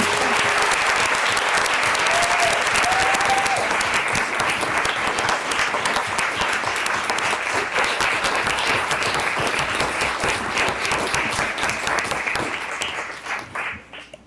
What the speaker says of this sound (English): there's another group that probably could use an applause and would like you to stand up to and be recognized